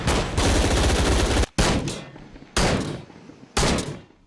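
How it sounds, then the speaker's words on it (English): Loud gunfire from the video game Shadow of the Tomb Raider: a sustained automatic burst followed by three sharp single shots spaced about a second apart, each with a short decaying tail. "Weapons sound loud, with an appropriate level of depth and variation between the different guns"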